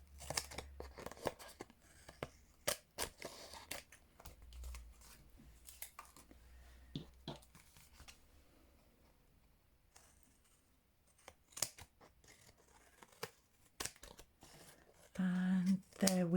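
Scissors gummed up with sticky residue snip in short, sharp bursts, irregular and close, with quiet pauses and rustling between cuts.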